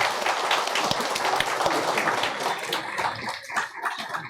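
A church congregation claps during a Sunday service to welcome first-time visitors, a lively, moderately close patter of many hands that thins out and grows scattered toward the end.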